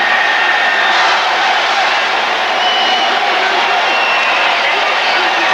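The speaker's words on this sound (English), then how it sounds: "Listen to the people cheering." A stadium crowd cheering at a 1999 St. Louis Rams at New Orleans Saints football game, a loud, continuous, dense roar of voices that holds steady without letup.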